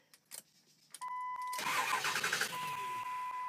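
A 2002 Ford F350 pickup's 7.3 Powerstroke diesel engine cranks briefly and fires up, settling into a loud, steady rumbling idle; a couple of faint clicks come just before.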